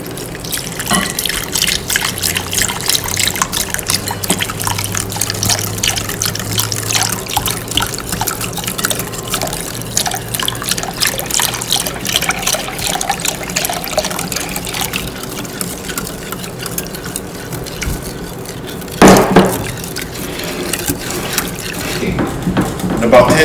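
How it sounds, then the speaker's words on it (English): Two cups of milk poured slowly while being whisked in a home kitchen, a steady close trickling and sloshing with brisk whisk scraping running throughout, with a short louder clatter near the end. "Now we're going to slowly pour and whisk at the same time."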